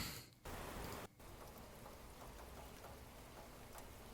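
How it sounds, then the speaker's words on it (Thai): Steady rain pattering against a window glass, a dense continuous patter with faint ticks, briefly dipping before resuming. "ฝนตกที่หน้าต่าง"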